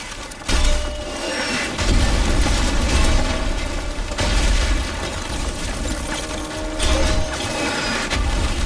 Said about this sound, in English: If it moves, put a mortar shell on it. Keep firing the mortar!